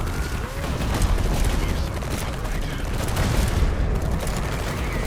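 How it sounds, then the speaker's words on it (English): Dense, continuous gunfire and booming weapon fire from a real-time strategy battle in the video game Tempest Rising, with units shooting at a barrel to blow it up; rapid overlapping shots and mechanical clatter fill the whole stretch. "let's shoot this barrel here and should be able to blow up that"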